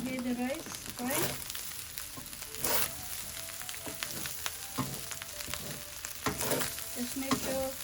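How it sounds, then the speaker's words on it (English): Basmati rice and shrimp fry in a pan for shrimp fried rice, a steady crackling sizzle with repeated scraping stirs and louder bursts when the rice is tossed, close and continuous. "You can hear the rice frying."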